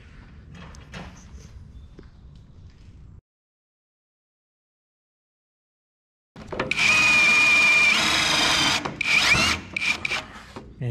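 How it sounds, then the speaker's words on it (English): A power drill whines loudly for several seconds, its pitch holding steady then briefly dropping, after quieter rustling and a pause of silence, drilling out a mount for an off-road light on an M1161 Growler vehicle. "And drill it out."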